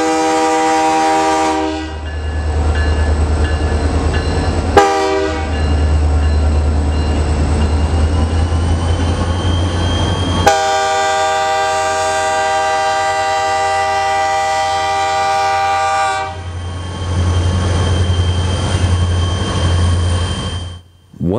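A westbound freight transfer train rumbles past close by for a long stretch in Galesburg, Illinois, its horn blasting several times in long, loud tones over the rolling noise.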